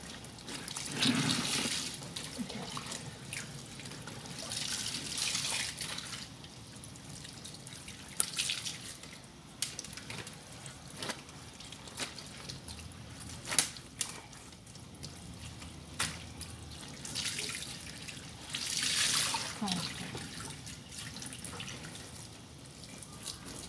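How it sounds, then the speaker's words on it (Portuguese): Water splashes and trickles as clothes are rinsed by hand in a laundry tank, with intermittent pours, drips and sloshing surges, fairly quiet and close. "eu vou passar água por dentro da roupa"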